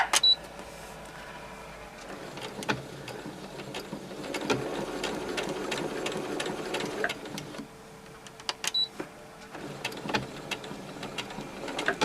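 A sewing machine stitches fabric near the needle while a waistband is sewn, running in steady bursts with brief pauses and mechanical ticks, fairly close and moderately loud, with no talking.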